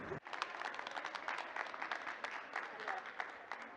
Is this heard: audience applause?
yes